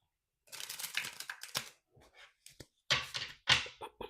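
A deck of tarot cards being shuffled at close range, several quick riffling and slapping bursts with brief pauses in between, and no voices.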